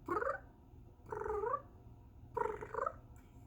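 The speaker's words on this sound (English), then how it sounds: "If any of you own a black cat, you guys know that little chirp sound that they go." A black cat makes three short, soft chirping calls with a wavering pitch, spaced apart over a quiet background hum.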